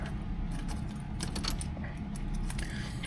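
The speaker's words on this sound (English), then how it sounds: "I always got a habit of putting these keys in with the keys facing up" Keys jangle and clink continuously near the ignition of a 1974 Dodge Challenger, a close metallic rattle over a low steady rumble.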